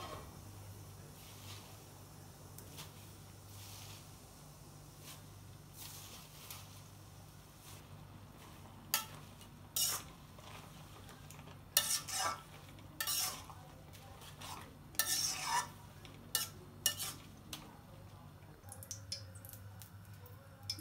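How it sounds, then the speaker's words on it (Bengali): Jute leaves cook in a pan with onion, green chili and a little water. Soft steady simmering sits under intermittent bursts of spoon stirring and scraping, which are clustered and louder toward the end. "এখন এই যে পাট শাকটা দিয়ে দেই।"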